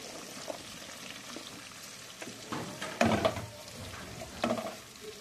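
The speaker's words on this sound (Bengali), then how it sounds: "আমি এখন দিয়ে দেব কেটে রাখা ক্যাপসিকাম। একটু হালকা ভাজা ভাজা করে নিয়ে তাতে আমি অ্যাড করে দেব পেঁয়াজগুলো" Sliced capsicum is stirred in a pan of hot oil, with ginger-garlic paste and onions added for chili stir-fry, giving a quiet steady sizzle broken by a few sharper scraping stirs near the end.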